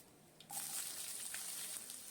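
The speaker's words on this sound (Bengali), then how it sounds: "দু চামচ তেল কড়াইতে দিয়ে দিলাম" Nigella seeds hitting hot oil in a wok, with a sudden bright hiss that rises after a short quiet start and keeps up a faint, steady crackle.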